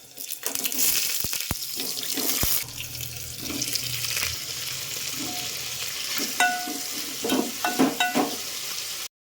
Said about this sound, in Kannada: ನೀಟಾಗಿ ಇದನ್ನೆಲ್ಲ ಫ್ರೈ ಮಾಡ್ಕೋಬೇಕು